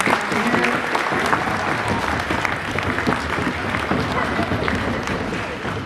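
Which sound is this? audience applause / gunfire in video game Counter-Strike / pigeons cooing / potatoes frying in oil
audience applause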